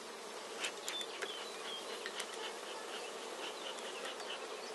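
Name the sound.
honeybees flying around a hive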